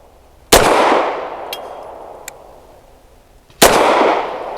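Two loud, close pistol shots from an Arsenal Strike One firing 147 grain HST ammunition, about three seconds apart, each with a sharp crack and a long reverberant decay, with small metallic clinks between.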